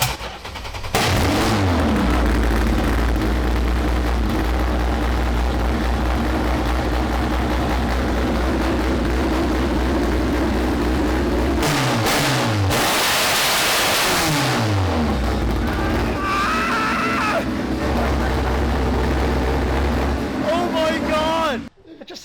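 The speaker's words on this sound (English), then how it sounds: "You can just hear how angry that engine is." A harsh, loud car engine roars and revs at length close by, with a throaty drone, a sharp high rev burst midway, and voices underneath.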